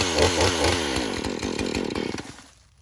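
A Husqvarna 440e chainsaw engine roars loudly and close by after starting, buzzing with rhythmic revving pulses before it drops off and fades out near the end.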